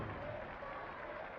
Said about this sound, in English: Terzaghi walks off to widespread applause